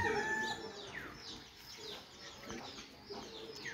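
A chicken clucks and calls in a farmyard on a foggy morning, giving several short, rising squawks close by over faint background rustle, with no speech.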